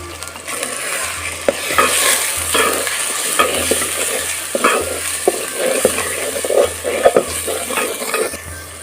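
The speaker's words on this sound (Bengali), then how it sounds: "এটা এখন সুন্দর মতো কষিয়ে নিতে হবে" Chicken pieces with turmeric and salt sauté in a hot pan, a constant sizzle under repeated stirring and scraping strokes from a spatula, with occasional clinks of utensil on metal.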